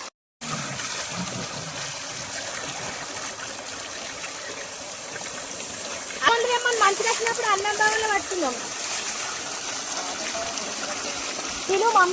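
Water gushes steadily at a village well, a continuous rushing flow running close and loud throughout, with a voice talking over it partway through.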